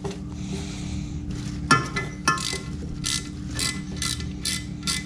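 A ratchet tightens bolts on a Mitsubishi Conquest / Starion engine, making bursts of quick mechanical clicking with a few sharp metallic clinks, heard close over a steady low background hum.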